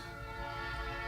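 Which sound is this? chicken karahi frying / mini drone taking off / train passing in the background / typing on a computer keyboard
train passing in the background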